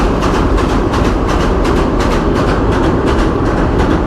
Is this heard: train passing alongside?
yes